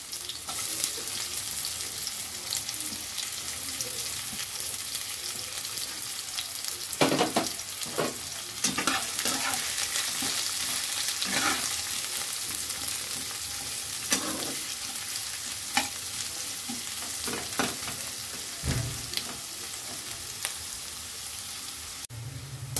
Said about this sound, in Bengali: এবার কুচিয়ে রাখা পেঁয়াজগুলো গরম তেলে দিয়ে বেরেস্তা বানিয়ে নেব